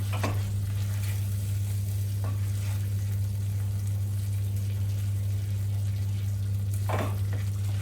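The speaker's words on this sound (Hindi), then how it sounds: "आप इसको कंटिन्यू चलाते रहिए, अदरवाइज वो दही फटने के चांसेस रहते हैं।" Yogurt fries and sizzles in a hot pan for veg kofta gravy, a steady crackling hiss over a low hum, broken by a few scraping stirs of a spoon, with no speech.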